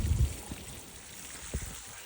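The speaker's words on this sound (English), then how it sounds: "pour the whole 2 gallons in" About two gallons of rainwater poured into a planter, a soft, close splashing and trickling with a few low gurgles, fairly quiet and without talk.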